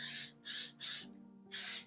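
Olive oil cooking spray hisses into a baking pan in four close, steady bursts, each about a quarter to half second long with short gaps.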